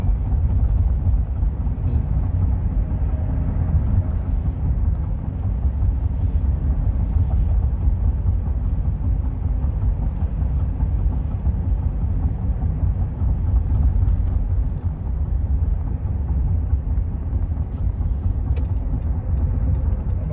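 A rental car drives along a road on a Black Hills trip, heard from inside as a steady low rumble of engine and tire noise that holds evenly throughout.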